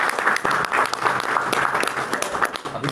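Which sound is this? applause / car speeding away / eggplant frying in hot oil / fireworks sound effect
applause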